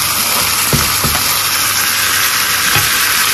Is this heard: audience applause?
no